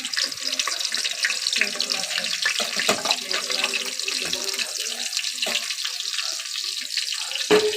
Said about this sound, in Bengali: পেঁয়াজটা এখন ভাজা চলছে